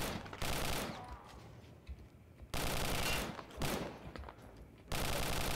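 Gunfire and explosions from the Wolfenstein game, Real RTCW 5.0 mod, come in dense, loud bursts of rapid automatic fire. Quieter gaps sit between the volleys, and nobody talks.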